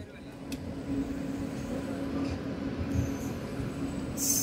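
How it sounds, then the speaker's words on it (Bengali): A Dadar superfast express rolls into platform 1 at Coimbatore station, a steady low rumble of wheels on rails with a faint squeal, moderately near and continuous throughout. "আমাদের দাদার সুপারফাস্ট এক্সপ্রেস কোয়েম্বাটুর রেল স্টেশনের 1 নম্বর প্ল্যাটফর্মে প্রবেশ করছে।"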